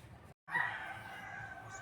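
A rooster crows once, moderately loud and drawn out, near a chicken slaughterhouse, standing out over a low outdoor background hum.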